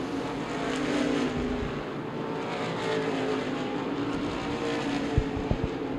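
Modified race cars roar around the track at Lucas Oil Raceway, a continuous loud engine drone from several cars passing through lap traffic, with no voices heard.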